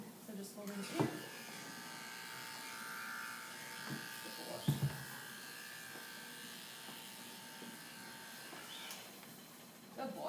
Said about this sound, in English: so I'm just going to clip around the edges